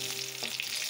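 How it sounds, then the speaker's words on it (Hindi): Rice-flour dough balls frying in hot oil in a pan while being stirred, a steady close dense sizzle with no talking. "अब हम फ्राई करेंगे अपनी सारी गोलियाँ"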